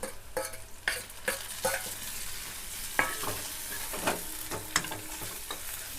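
Tomatoes and finely chopped coriander stirred while frying in a pan, a soft sizzle broken by a string of sharp spoon scrapes and clacks at an uneven rhythm, close and without talk.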